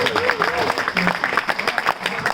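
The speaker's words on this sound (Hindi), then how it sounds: "आप लोग तकल्लुफ ना करें ताली बजाने में।" Audience applause at a live shayari poetry recital, a steady wash of clapping throughout under a speaking voice.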